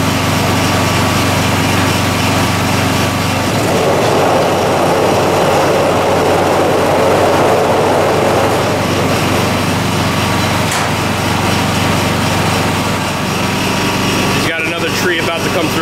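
A Christmas tree netting machine at a tree farm runs with a loud, continuous mechanical roar that holds steady for the whole stretch and thins briefly near the end.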